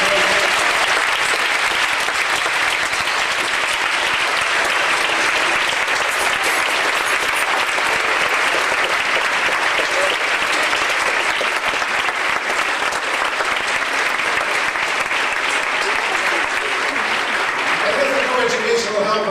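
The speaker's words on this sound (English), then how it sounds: "let's give one more round of applause for these pioneers" Sustained audience applause at an assembly marking twenty years of women at Baylor, dense and steady throughout, fairly loud and close, with a faint voice near the end.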